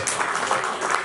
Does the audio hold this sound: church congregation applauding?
yes